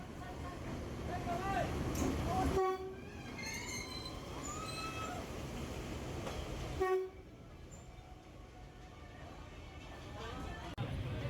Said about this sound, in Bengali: এই যে ট্রেনটা চলে যাচ্ছে।